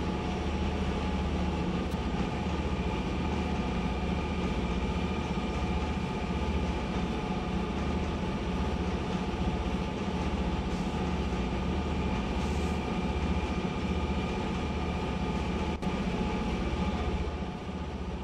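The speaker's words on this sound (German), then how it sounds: "Alter, was für eine geile Lokomotive." A GP38 diesel locomotive runs in the Railroader video game, a steady, loud engine rumble with rolling rail noise throughout and no talking.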